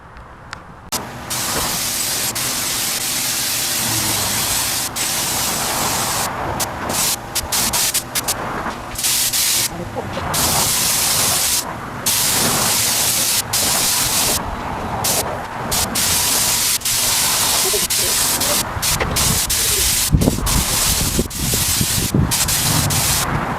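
A spray gun lays urethane paint onto third-generation Camaro parts in a steady, loud hiss that runs nearly unbroken, with brief pauses and faint rubbing and shuffling nearby, no voices.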